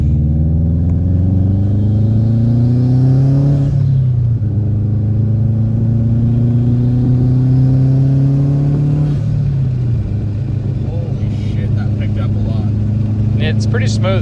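A Subaru WRX wagon engine fitted with ID1050 injectors and a VF48 turbo revs under throttle during tuning, climbing twice in long loud pulls, dropping back, with people talking over it.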